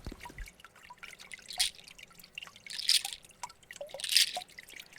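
Rain drips steadily through a forest, with scattered irregular plinks and splashes against a soft wet background, quiet and close, with no voices.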